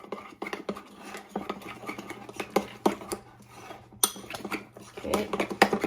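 Protein pancake batter with stevia and cinnamon being stirred in a bowl, with a series of quick, close scraping and clinking taps of a utensil against the dish, irregular and fairly loud, with no talking.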